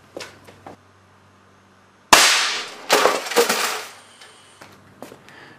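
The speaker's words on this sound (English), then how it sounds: "Glass marble as ammo, shot number 2 at the dead toaster." Air cannon loaded with a glass marble fires at a dead toaster: a sharp, loud blast followed by a clattering metallic impact and rattling debris, with quieter knocks before the shot.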